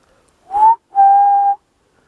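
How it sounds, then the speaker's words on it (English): A person whistles two clear notes, a short rising one followed by a longer steady one, close and loud against near silence. "Now that's an improvement because I couldn't even whistle this morning."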